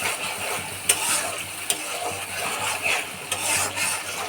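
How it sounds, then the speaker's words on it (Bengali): Spice paste for rohu fish with bean seeds fries in a pot with a dense, hissing sizzle. Occasional sharp ticks of stirring cut through the sizzle, and no voices are heard. "এখানে মশলাটা কষিয়ে নিচ্ছি, রান্না করছি রুই মাছ আর এই সিমের বিচি।"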